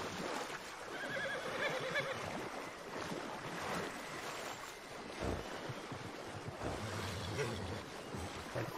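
A horse whinnies in a video game, set against a steady bed of wind, surf and water ambience, with the call rising briefly above the mix.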